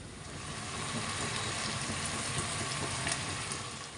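Chicken pieces slowly frying on low heat for a stovetop chicken grill, giving a steady soft sizzle with faint crackle throughout, close and even, with no voices.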